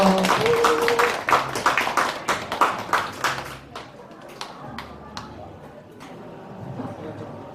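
Audience clapping at a family event, a burst of distinct claps that thins into scattered taps and dies away, with faint voices in the room.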